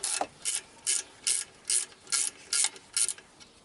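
Ratchet wrench loosening a 12mm tensioner bolt on a Ford Ranger, eight quick evenly spaced clicking strokes, close and crisp.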